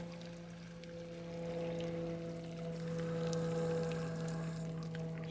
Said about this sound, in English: And then my junipers, I always water the foliage on them.